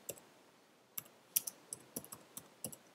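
Keyboard typing while writing a forum post: about a dozen sparse, quiet, close clicks in an irregular rhythm, some falling in quick pairs, with no talk.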